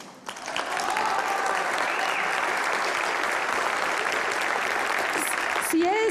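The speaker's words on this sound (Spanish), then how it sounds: "Aplausos." Applause from the audience at the National Arts and Literature Award ceremony in the Palacio de Bellas Artes, honoring an actress. A dense, sustained ovation swells quickly and holds steady for about six seconds.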